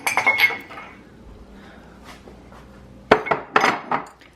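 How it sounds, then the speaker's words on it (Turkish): Close clatter of dirty dishes and cutlery being loaded into a dishwasher, a few clinks, a quiet pause, then another burst of knocking plates. "Ardından da şu sabahki bulaşıkları hemen yerleştireceğim"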